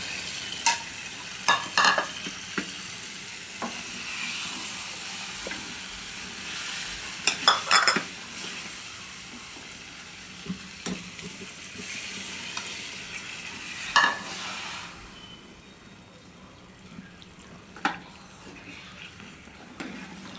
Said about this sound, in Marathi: सगळी व्यवस्थित मिक्स करून घ्यायची